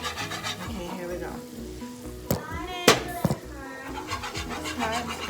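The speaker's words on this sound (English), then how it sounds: "sour cream and mushroom and add it to there, and then we're gonna stir it up together" Sour cream and mushroom sauce stirred in a hot pan on high heat, with soft scraping and rubbing of the utensil over a faint sizzle and a few sharp clanks, close and under a person's talking.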